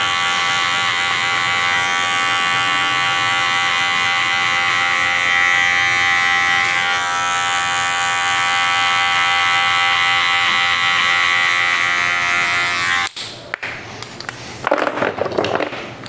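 Electric hair clippers buzz steadily and close up during a military-style fade haircut, then switch off near the end, followed by a few light handling noises.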